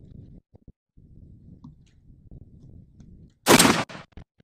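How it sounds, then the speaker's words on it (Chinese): A Barrett M107-1 .50-caliber rifle fires once without a suppressor, a loud, sharp blast with a brief echoing tail that stands out after several seconds of low, quiet rumble. "首先看看巴雷特 M107-1不装消音器时射击时的效果"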